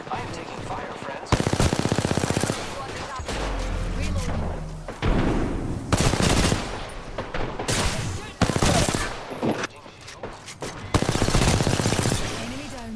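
Rapid automatic gunfire in Apex Legends, dense loud bursts of shots separated by brief lulls and thudding impacts, with a voice talking over the firefight.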